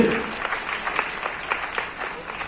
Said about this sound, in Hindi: एक करतल ध्वनि से हमारे राष्ट्राध्यक्ष जी का स्वागत।